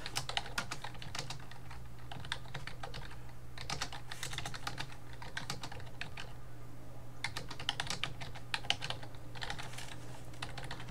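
Rapid key clicks on a computer keyboard come in bursts with short pauses, fairly quiet and close, with a low steady hum beneath.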